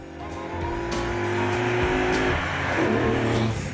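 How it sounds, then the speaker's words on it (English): A classic Dino sports car engine roars steadily at speed, loud and close, with harmonic tones shifting as revs change and faint tyre noise. "And the Dino's sumptuous engine is legendary."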